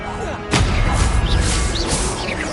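A Confringo blasting spell goes off in the Hogwarts Legacy video game, a sudden loud burst with a sharp attack that rings into a sustained rumbling crackle with whooshing tails, all under a steady background bed.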